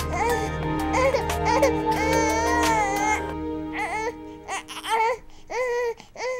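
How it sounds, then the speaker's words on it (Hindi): A baby cries loudly nearby in sustained wailing bursts, the sobs breaking into shorter, hiccuping cries toward the end with brief pauses between them. "ये बच्चे की रोने की आवाज कहाँ से आ रही है?"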